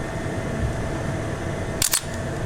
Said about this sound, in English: Now I'll fire the shutter right now with the lens off so you can see how that looks.